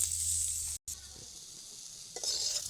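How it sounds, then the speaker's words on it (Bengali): Turmeric-coated potatoes stir-fried in a wok with no oil give a soft sizzle and scraping stir, with a brief silent gap, then continued light hissing and a quick clatter near the end. "আলুগুলো ডিমের মতন করে একই রকমভাবে কিন্তু কড়াইতে নেড়ে নেড়ে ভেজে নেব"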